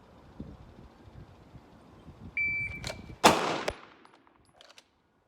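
A single loud handgun shot at a shooting range, a sharp broadband crack with a brief tail, preceded by a short tonal beep like a shot timer, over low background rumble.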